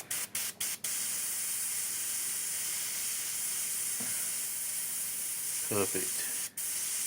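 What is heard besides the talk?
airbrush spraying thinned paint on a model tank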